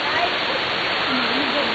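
A waterfall at Dahilayan rushes in a dense, constant hiss of falling water, loud and close, with no break.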